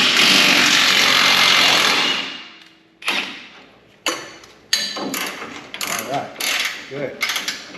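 A ratchet wrench cranks loose a 24mm strut mount bolt on a Dodge Ram truck, first a long continuous whir of rapid clicking, then several shorter bursts of clicks separated by pauses, close and loud.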